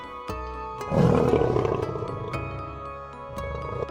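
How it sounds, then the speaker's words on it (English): Lion roaring, a single loud, rumbling roar that swells and slowly fades over a few seconds, heard up close over a steady background music bed with light percussive ticks. "L for Lion."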